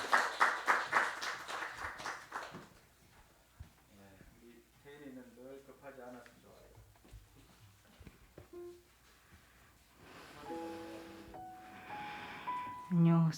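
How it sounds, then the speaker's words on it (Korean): A church congregation claps in welcome during a Sunday worship service, a loud burst of applause at the start that soon fades as a voice begins speaking. "우리 큰 박수로 환영하겠습니다."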